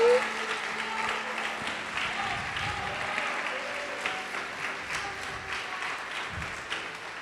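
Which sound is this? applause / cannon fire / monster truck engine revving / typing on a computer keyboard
applause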